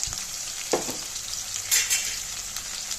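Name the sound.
sautéing in oil, sizzling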